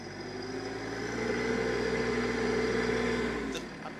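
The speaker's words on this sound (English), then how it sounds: "Listen to that. I don't know if you guys can hear it through this mic." A TYM T264 tractor's diesel engine runs steadily close by, a low droning hum that swells slightly in the middle, with a brief click near the end.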